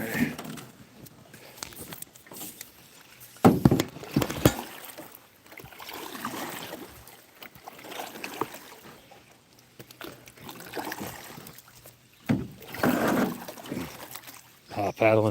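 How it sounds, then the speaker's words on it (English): A paddle splashes and pulls through water thick with obstacles, stroking a small boat with a blown-out trolling motor along; irregular sloshing and dripping strokes come near and moderately loud under intermittent talk. "Paddling through these is not easy."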